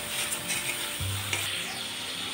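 A spiced mixture that has been loosened with water is stirred in a pan, giving a continuous soft sizzle and one low scrape of the utensil partway through, with no voices.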